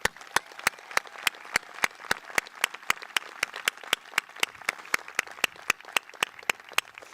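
Audience applause for graduates at a high school commencement ceremony, heard as sharp, evenly spaced claps in a steady rhythm, loud and close, repeating for about seven seconds with no talk.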